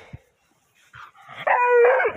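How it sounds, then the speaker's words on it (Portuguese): A hunting dog out on an armadillo hunt gives a short bark, then a rising, drawn-out howl that swells loud and close, with a few sharp yips before it. "cachorro bruto esse aqui, ó. Pega até pomba"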